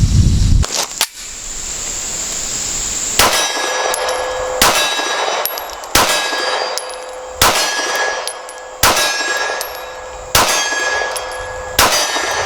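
A Springfield Hellcat pistol fires at a 25-yard range, seven sharp outdoor shots spaced roughly a second and a half apart, each followed by a ringing clang of steel targets.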